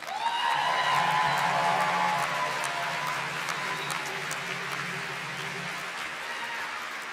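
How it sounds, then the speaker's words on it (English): Commencement audience at a spring university graduation ceremony clapping in sustained applause, loudest at the start and gradually tapering over several seconds, with no speech over it. "How about an applause?"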